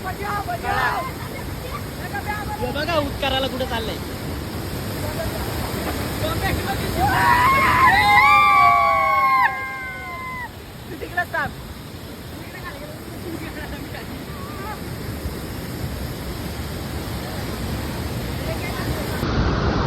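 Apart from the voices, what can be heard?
waterfall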